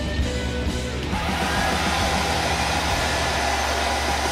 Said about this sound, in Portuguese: secador de cabelo, o secador